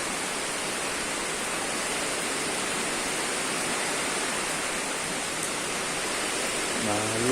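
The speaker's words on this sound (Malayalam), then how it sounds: "നല്ല കാറ്റും മഴയാണ്." Strong wind with heavy rain, a dense, loud, unbroken roar of downpour and gusts filling the whole scene without letting up, and a brief tonal rise right at the end.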